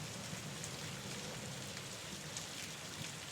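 Steady rain pours down on a surface, a dense even hiss with scattered drops and no other sound, for a dark, gloomy scene of a bus station platform.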